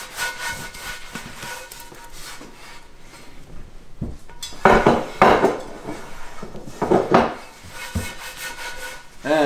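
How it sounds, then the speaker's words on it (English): A towel rubs and scrubs a cast iron pan dry during restoration, giving repeated close rasping strokes in uneven bursts, louder in the middle, with faint metallic clinks and no talk. "take a towel, dry it off as best as possible"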